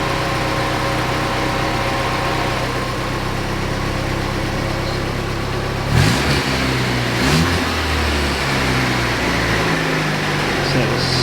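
A Saab 90 engine with a rebuilt carburettor idles steadily and loudly at close range, its note shifting about halfway through as it is given a rev and then settles.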